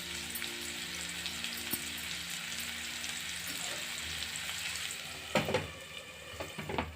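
A medium-sized onion sizzles steadily in spiced masala for an almond chicken curry, a close, continuous frying hiss with a few stirring clatters near the end.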